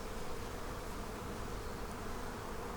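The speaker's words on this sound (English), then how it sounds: "That's a lot of bees right there" Honey bees swarm densely around hive frames during a fall inspection, a steady, close, unbroken buzz filling the whole stretch with no voices.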